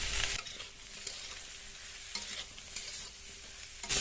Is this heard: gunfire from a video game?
no